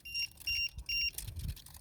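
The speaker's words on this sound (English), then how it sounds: "I don't mind the beep, that's mine" Three short, evenly spaced electronic beeps, a low-voltage warning from the radio setup of an E-flite UMX Cessna Citation Longitude RC plane, sound close by, followed by light handling noise and rustling.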